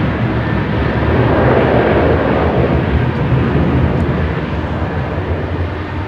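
A Boeing 747 freighter climbs away from Heathrow's runway 27R, a loud, steady broadband jet roar that swells slightly and then holds, with no voices present.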